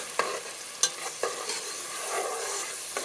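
Vegetables for she crab soup stirred in a pot, a spoon giving several light scrapes and taps over a faint, steady sizzle, close by with no talking.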